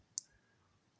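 A single crisp computer mouse click on a trading platform, quiet and close, in near silence.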